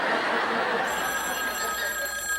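Telephone ringing indoors in a 1980s sitcom, a bright electronic ring that starts partway in and repeats steadily, fairly clear over faint room sound.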